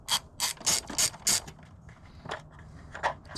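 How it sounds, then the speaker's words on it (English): A ratchet clicks in quick bursts while loosening 10mm bolts under the hood of a 2004 GMC Canyon, about five sharp close ratcheting strokes followed by quieter, scattered clicks and tool handling. "I'm going to loosen these two bolts right here and right here."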